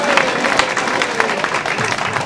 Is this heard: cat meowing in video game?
no